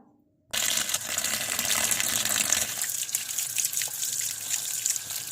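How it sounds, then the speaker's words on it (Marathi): After a brief silence, a tap bursts on and water runs in a steady, close gush, splashing over leaves being rinsed. "आता मी छान अशी पाण्याखाली धुवून घेणार आहे"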